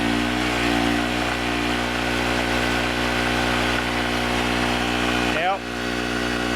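A gasoline generator engine runs steadily on partial choke, a loud continuous droning hum close by, with a brief dip and pitch wobble near the end, and someone talking over it.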